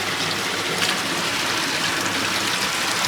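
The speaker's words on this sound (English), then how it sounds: "Loads of water pouring out of here." Floodwater pours out heavily during a storm in Portugal, making a steady, loud, broadband rushing gush with no pauses and no voices.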